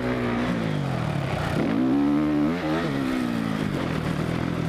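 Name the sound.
Suzuki motocross motorcycle riding on a track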